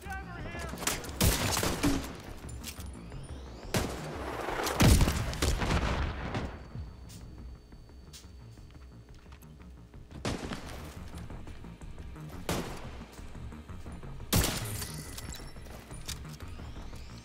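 Sniper rifle fire in the shooter game The Division 2, heard as several loud, sharp bursts spread across a busy battle, with quieter gaps between the volleys.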